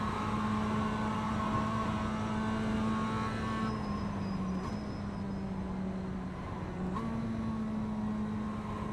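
A GT3 race car engine holds at full throttle in a racing game, a steady, droning roar at even volume that dips briefly in pitch during a couple of gear changes and then climbs again.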